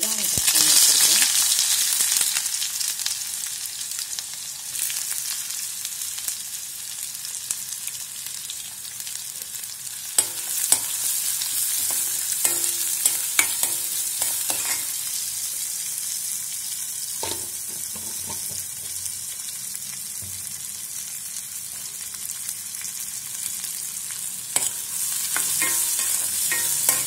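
Onions sizzle steadily in hot oil with popped mustard seeds for a long stretch, cooking for an okra poriyal, with occasional scraping and stirring clicks from a utensil in the pan.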